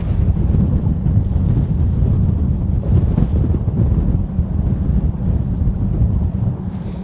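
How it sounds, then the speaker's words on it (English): Cold wind buffets the microphone steadily on open water during a bass-fishing outing, a loud continuous low rumble with faint lapping of water underneath and no voices. "That wind is definitely cold."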